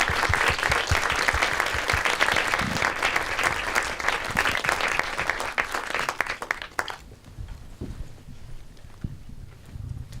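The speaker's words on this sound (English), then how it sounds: "Please give them a very big round of applause." A seated audience at an Of Love & Law Q&A applauds as director Hikaru Toda and producer Elham Shakarafar take the stage, loud sustained clapping that cuts off abruptly, leaving faint room noise and scattered thumps.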